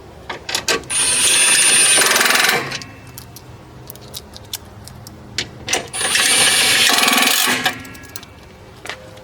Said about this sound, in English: I'll probably throw these bolts back in just to have, you know, these threaded holes plugged again